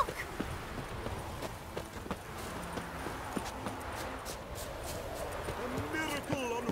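Horse hooves clip-clop at a steady walking rhythm in The Witcher 3, set at a horse race, moderately close amid a busy ambient game soundscape with background murmur.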